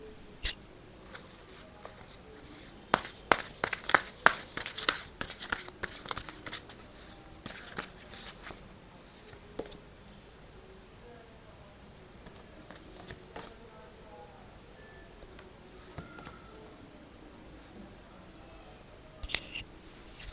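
Tarot cards riffle and slap in a quick, crisp flurry up close, then give way to sparse soft taps and slides as single cards are drawn, all at low volume.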